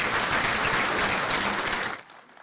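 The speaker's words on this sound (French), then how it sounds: "Puissent vos applaudissements saluer les présents," An audience at an official opening ceremony for a regional sports event applauds in a dense, steady burst that cuts off abruptly after about two seconds.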